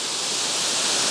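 A Yorkshire waterfall pours in a steady, dense rush of broadband water noise, close and even for the whole short stretch, with no voices.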